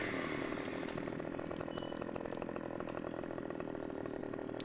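A chainsaw running in the Farming Simulator 15 video game, a steady buzzing engine drone held at constant loudness for several seconds with no speech.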